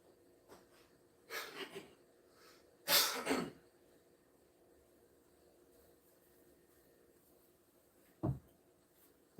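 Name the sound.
person blowing their nose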